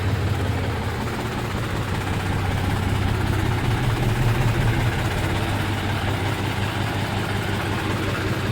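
A tractor engine idles steadily at close range, a low, even rumble that holds without change throughout, with no voices.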